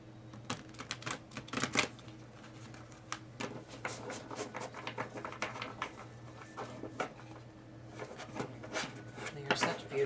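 Wild Unknown Alchemy oracle cards being shuffled by hand, uneven bursts of sharp card snaps and rubbing, close and moderately loud, separated by short quieter gaps.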